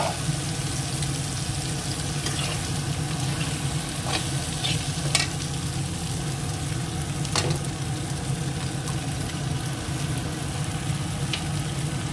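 An egg cooks in a frying pan alongside onion, green chilli and tomato, with a continuous sizzle up close and occasional crisp scrapes of a utensil stirring it.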